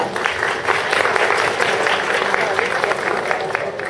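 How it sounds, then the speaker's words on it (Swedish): Warm applause from an audience welcoming presenters at a trade fair in Gothenburg, a steady, close wall of clapping with some voices mixed in underneath. "Så en varm applåd till dem och välkomna."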